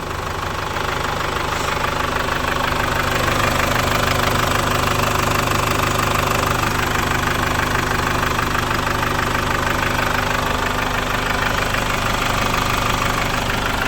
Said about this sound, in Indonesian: kita biarkan idle dulu 5 atau 10 menit